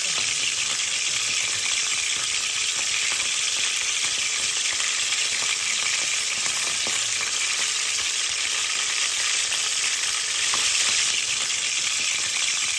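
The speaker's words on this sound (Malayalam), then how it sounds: "കുറേശ്ശെ എടുത്ത് നമുക്ക് ഈ എണ്ണയിലേക്ക് ഇട്ട് നന്നായിട്ട് ഫ്രൈ ചെയ്തെടുക്കാവുന്നതാണ്" Potato and onion pakoras deep-frying in coconut oil, a loud, dense, unbroken bubbling sizzle that holds steady throughout, close up and with no talking.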